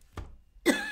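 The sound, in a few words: cough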